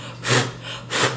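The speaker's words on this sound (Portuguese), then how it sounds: "dar uma sopradinha para tirar o excesso do pó." Two short, close puffs of breath are blown across a surface to clear off loose embossing powder while making a butterfly box, each an airy whoosh with a brief pause between.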